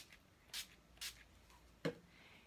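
Two quick, quiet spritzes of NYX Duty Finish setting spray onto a makeup brush about half a second apart, followed by a soft dull tap, in an otherwise hushed room.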